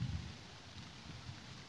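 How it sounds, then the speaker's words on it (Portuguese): Rain falls steadily outdoors, a soft, even wash of noise with low rumbling underneath, continuous and fairly faint throughout, with no voices. "Ó, barulho da chuva."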